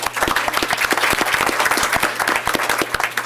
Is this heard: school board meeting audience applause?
yes